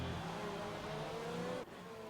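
A Formula 1 engine screams at high pitch during the 2020 Bahrain Grand Prix, its tone sliding steadily downward as the car brakes, then cuts off abruptly near the end.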